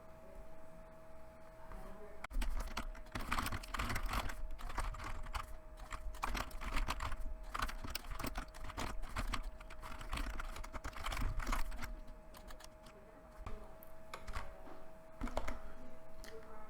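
Steady computer keyboard typing as code is entered, with bursts of quick key clacks running through most of the stretch, fairly close but soft, with no talking.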